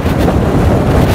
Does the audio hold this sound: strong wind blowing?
yes